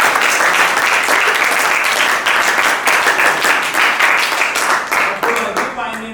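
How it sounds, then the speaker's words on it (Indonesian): Classroom students give a round of applause for a classmate, steady and lively clapping from many hands that thins and fades toward the end. "Berikan aplaus untuk Dini ya."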